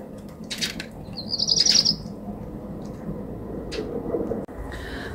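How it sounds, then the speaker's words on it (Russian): Small birds chirp and twitter outdoors, with a bright trill in the middle and scattered calls over a soft background hum. "То ли скворцы, то ли какая-то птичка такая интересная."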